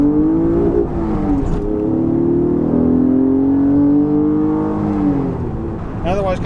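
A Honda NSX engine revs hard up an on-ramp, a loud close drone whose pitch climbs steadily and then eases off.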